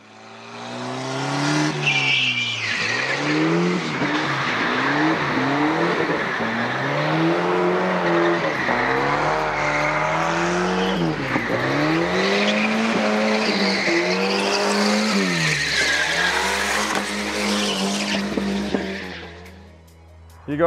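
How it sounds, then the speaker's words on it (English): Volvo 940 Turbo drift car sliding through a drift, engine revving hard and rising and falling with long continuous tire screech, loud and close throughout with no talk. "just kind of a unique all-around daily driver that's able to drift"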